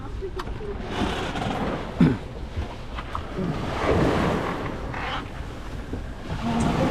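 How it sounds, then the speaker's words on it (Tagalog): Big sea waves churn around Daruanak Island in Pasacao, Camarines Sur, a rough, continuous wash of surf and wind buffeting the microphone, with a brief thump and scattered voices talking faintly over the roar. "Grabe, ang alon."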